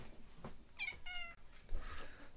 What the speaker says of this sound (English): That's Kiri come to take the offending cat away.